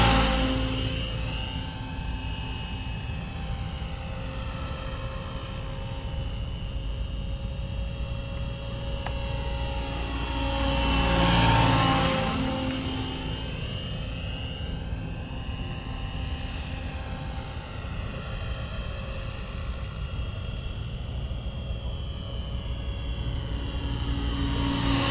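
Trex 700 radio-controlled helicopter with a Bell Jet Ranger scale body coming in to land, a continuous loud rotor and turbine-like whine that swells and sweeps in pitch as it passes closest, then settles.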